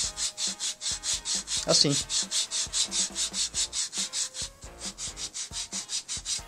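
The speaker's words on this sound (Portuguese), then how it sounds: "Colocou a peça aqui dentro, você vai só lixar." Hand sanding of a cosplay prop piece held inside a sanding jig, the kind used to shape sword, spear and dagger blade edges: steady rhythmic back-and-forth rubbing strokes, close and fairly loud, with a brief word spoken partway.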